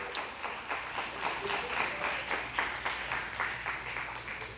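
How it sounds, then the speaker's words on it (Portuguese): A church congregation applauds during a sermon, a fairly quiet and distant patter of steady clapping filling the room. "Pode aplaudir a Ele."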